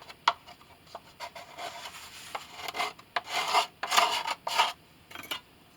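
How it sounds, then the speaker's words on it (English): A small hand scraper scraping glue off a violin top, close, uneven raspy strokes that come in short bursts and grow louder toward the end. "Now I'll need my smaller scraper to get that scraped out properly"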